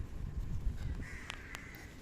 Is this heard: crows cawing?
yes